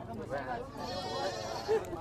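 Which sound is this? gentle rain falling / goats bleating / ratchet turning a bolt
goats bleating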